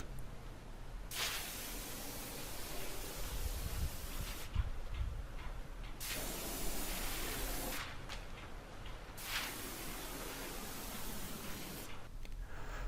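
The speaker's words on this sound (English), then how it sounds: "We spray paint the doors in the exact same way we spray painted the stucco." A paint sprayer's steady hissing spray runs in long bursts separated by short pauses while painting exterior house doors, loud and close, with faint ticking underneath.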